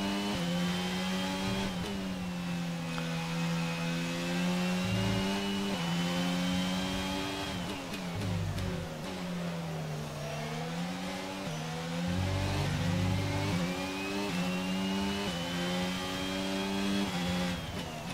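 Formula 1 cars race in the F1 22 video game with a big pack held up behind a McLaren. A loud, continuous high-revving engine whine rises and falls in pitch through gear changes, with no talking.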